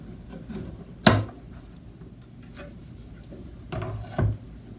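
A glued-up wooden CNC-cut drawer case is knocked apart, with a sharp wooden knock near the start and two more thumps later, each set over quiet rustling handling noise.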